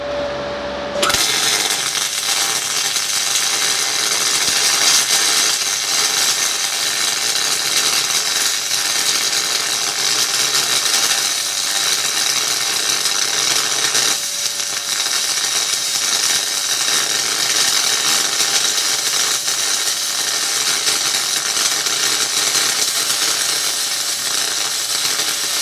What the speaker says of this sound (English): I'm going to try and run a weld along there